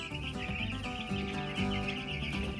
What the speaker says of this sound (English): Nice soft chirps, which is good.